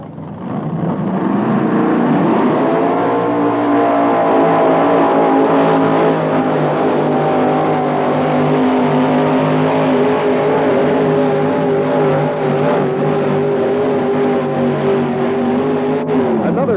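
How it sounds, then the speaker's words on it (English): A pulling tractor with a naturally aspirated engine makes a full pull at a 1987 pulling series event in Louisville, Kentucky, its loud engine roar climbing in pitch and then holding steady and close for the whole run. "Takes a naturally aspirated engine and runs out with it."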